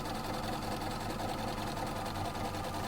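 Sewing machine stitching binding onto a scalloped quilt edge, turning around a corner; a steady, continuous close-up whir with even rapid needle pulses throughout.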